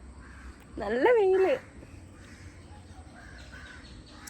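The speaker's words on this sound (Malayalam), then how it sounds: "വേഴാമ്പലായിരുന്നു കരയുന്നേ അത് മറ്റേ ഇന്ത്യൻ വേഴാമ്പല കേട്ടോ" A single loud, harsh honking call of an Indian hornbill rises briefly over quiet outdoor ambience, followed by faint distant sounds and a short spoken phrase.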